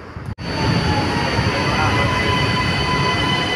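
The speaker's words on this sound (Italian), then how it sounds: "Ed ecco questo bellissimo Leonardo in livrea verde nero che mi porterà fino a Gessate." A Milan metro Leonardo train in green-black livery pulls into the station with a broad steady rush and hum, and high electric whines ride over the rumble after a brief dip in sound.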